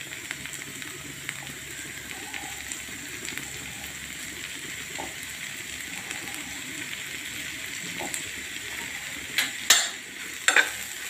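Paratha filling with coriander-cumin powder, sugar and squeezed lemon stirred in a bowl: a steady soft scraping and rustling, fairly quiet, with a few sharper clinks of the spoon near the end.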